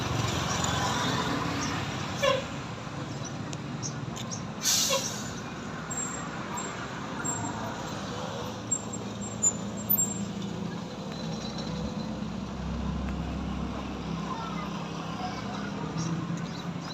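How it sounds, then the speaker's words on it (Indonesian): Prima Jasa bus on the Garut–Jakarta route arriving at Guntur bus terminal in Garut, a low engine rumble and traffic noise with brief hisses and clunks, moderately distant and fairly quiet throughout. "kedatangan bus Prima Jasa jurusan Garut Jakarta"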